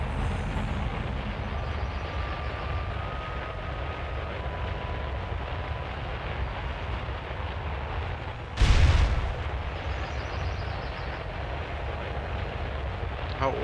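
A goblin rocket in World of Warcraft, worn and flying over mountains in the Badlands, lets out a single loud bang partway through a steady engine rumble.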